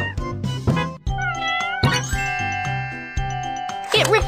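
A kitten hiding under a car in a kids' animal-rescue video game meows in several clear, high calls, with chiming game tones and bright jingles ringing alongside.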